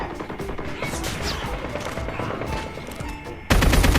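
Rapid automatic rifle fire rattles in Call of Duty Mobile, a dense string of close shots that grows suddenly louder and harsher near the end.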